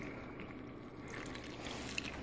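Water pours into a jar of sourdough starter with flour, a faint, steady trickle and splash close by with no voices.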